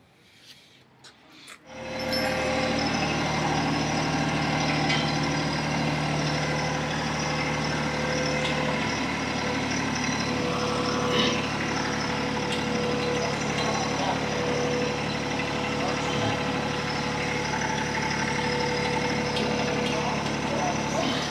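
A TYM T264 tractor engine idles while backing up, with a steady low rumble and hum, constant throughout after a brief quiet start, fairly close.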